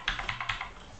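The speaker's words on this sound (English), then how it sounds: "so sorry about the noise of the keyboard" Rapid keyboard typing during a session of the game Diablo Immortal: a quick burst of about five or six crisp keystrokes, close and fairly loud, tapering off into quieter clicks with no talking.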